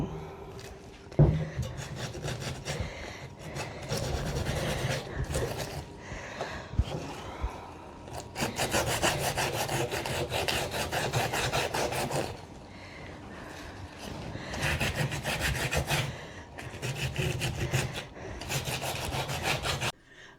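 Hand sanding wood with sandpaper, close rhythmic rasping strokes in quick repeated bursts with brief pauses between passes.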